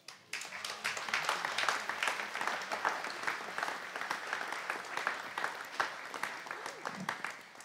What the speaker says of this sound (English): Janelle's applauding and Howard's going